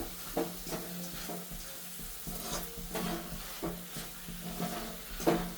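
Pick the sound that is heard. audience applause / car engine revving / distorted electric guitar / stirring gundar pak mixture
stirring gundar pak mixture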